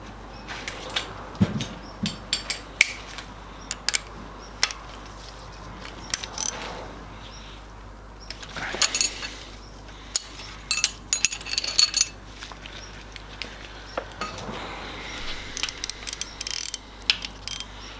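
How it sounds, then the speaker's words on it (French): A wrench loosens the lock nut on a TDI diesel injector with bursts of sharp ratcheting clicks and metallic clinks. The clicks come in short clusters separated by quiet pauses, over a low steady hum. "On va venir maintenant desserrer le contre-écrou qui est ici."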